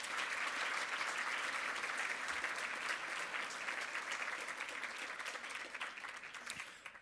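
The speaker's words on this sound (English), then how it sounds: "Please give them a round of applause" An audience at a medical school Match Day celebration applauds alumni association officers, a full, dense burst of clapping that holds steady and then begins to thin out toward the end.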